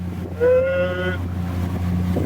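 A small rented motorboat with a 30 hp outboard engine cruises along the Ionian islands near Lefkada, a steady low engine drone with a brief rising whine, wind noise over the microphone.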